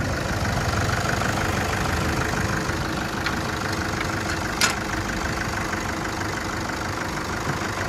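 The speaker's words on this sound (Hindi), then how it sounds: "ये है टोयोटा का इंजन, ठीक है, 4-व्हील ड्राइव" A Toyota four-wheel-drive engine runs with the bonnet open, idling in a steady, loud, continuous rumble with a faint tick partway through and no talking.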